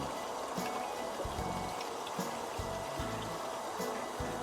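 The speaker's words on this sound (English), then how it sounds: "Everything needs a good water, and we're just filling up the containers" Water pours and trickles steadily into wicking garden containers on an allotment, with low gurgling pulses as it fills.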